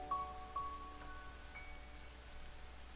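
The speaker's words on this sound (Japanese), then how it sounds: "雨が降ってんのがまた。" Gentle rain falls in a scene of the video game Xenoblade 2, a soft steady patter under faint sustained musical tones that step upward, with no talking.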